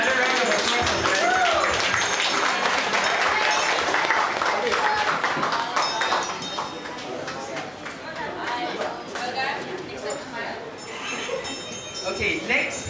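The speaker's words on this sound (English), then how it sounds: "another round of applause for Brett" An audience applauds at the opening of the New Old Malacca exhibition, with dense, loud clapping for the first several seconds that thins out into softer clapping and crowd chatter.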